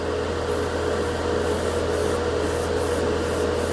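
An airbrush sprays nail polish onto a primed spoon. It gives a steady, close, continuous hiss with a faint pulsing texture throughout.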